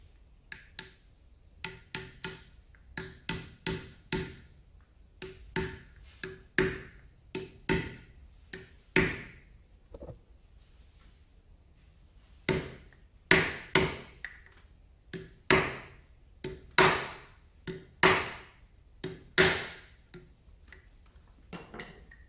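A seal is hammered into a motorcycle shock absorber with sharp, metallic blows in irregular clusters, close and loud, broken by a short pause midway.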